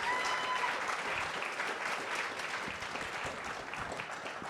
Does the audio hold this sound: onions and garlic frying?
no